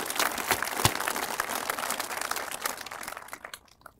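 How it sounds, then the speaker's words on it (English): Applause at an outdoor dedication ceremony for the Air Warrior Combat Memorial, honoring Tom and Jackie: a dense crackle of many hands clapping steadily, fairly near, tapering off and fading out over the last half second. "So a round of applause for Tom and Jackie."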